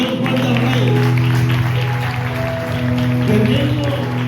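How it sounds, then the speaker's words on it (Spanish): A church congregation at Iglesia de Dios Central applauds loudly for the King, a continuous wash of clapping over sustained musical tones and crowd noise. "Ese aplauso bien fuerte al Rey"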